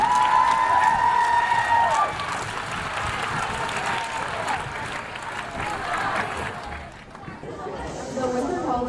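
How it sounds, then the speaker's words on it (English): Applause for a school jazz band at a holiday concert, a dense wash of clapping from a large audience with chatter and a few cheers mixed in, easing off slightly toward the end. "Let's give the jazz band one more round of applause."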